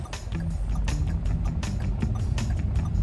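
Rhythmic ticking of a 2022 Toyota Yaris Ativ turn signal, set to its second sound option, evenly spaced clicks about twice a second over a constant droning background hum.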